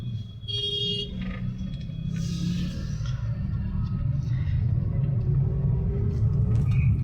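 A constant low rumble of heavy evening rush-hour road traffic with engines droning nearby, a brief high buzzing tone and faint distant voices.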